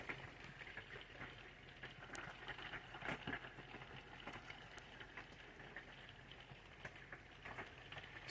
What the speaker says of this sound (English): It's still rainy.